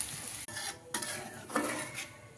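Green chillies frying in a pan, a crackling sizzle broken by repeated scraping stirs of a utensil against the pan, close and fairly loud.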